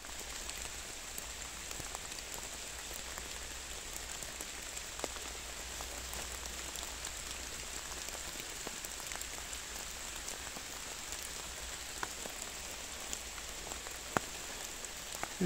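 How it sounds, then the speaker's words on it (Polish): Steady rain falling in a forest during a September mushroom hunt, a soft continuous hiss with scattered close drops tapping on leaves and surfaces, no voices. "Cały czas pada i nie da się zbierać w taką pogodę."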